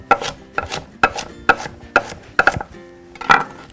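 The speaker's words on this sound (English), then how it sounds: "just give them a nice rough chop, just like that" Rough chopping of celery tops with a kitchen knife, about seven crisp, evenly spaced chops striking a board, close and clear with no talking.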